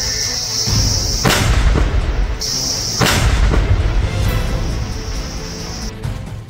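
Several loud, deep booms from a powerful IED detonated by security forces burst one after another, each rolling off with a long rumbling tail, over a steady high-pitched whine.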